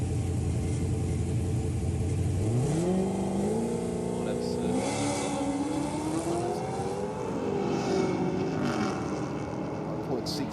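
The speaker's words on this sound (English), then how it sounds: "Nice little Cortina down there on the start line now." Ford Cortina on tall rear tyres launching down a drag strip at Sydney Dragway, a loud continuous engine roar with rising revs and gear changes, heard under crowd and commentary-level talk.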